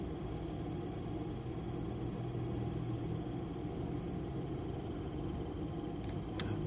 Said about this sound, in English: There's a car driving by in the parking lot